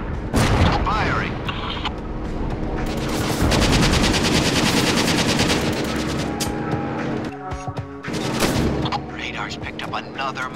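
Heavy machine gun fire in Syphon Filter: Logan's Shadow, loud sustained rattling bursts mixed with booming blasts, dense and continuous through most of the clip, with voices speaking over the combat.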